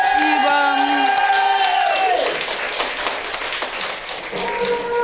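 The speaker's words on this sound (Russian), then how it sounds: "Аплодисменты." Studio audience applause and cheering at a Russian talk show taping, steady dense clapping with a few whoops, loud and close, while tonal music plays over it and fades midway.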